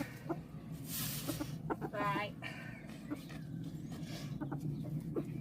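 A chicken clucks in short bursts close by in a farmyard, with a person talking over it and outdoor background noise throughout.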